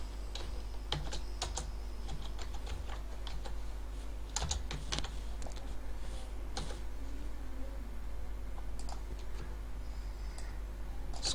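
Keys on a computer keyboard are tapped in short, irregular bursts of crisp clicks, close and fairly quiet against a faint steady room hum.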